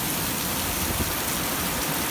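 Steady, dense rain pours down outdoors over a front yard with a corn patch, a continuous loud hiss of drops striking surfaces with no pauses or voices.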